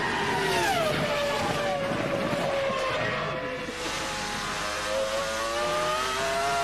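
A Formula One car engine screams at high revs during 2002 Suzuka practice, its pitch dipping and climbing through the S-curves, loud and continuous with a commentator's voice faintly beneath.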